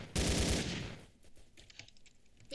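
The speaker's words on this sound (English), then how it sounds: "I just shot you with a pistol." A quick burst of pistol fire in the Roblox shooter COD of Robloxia rings out loud at the start, then fades into quieter game noise with no talk.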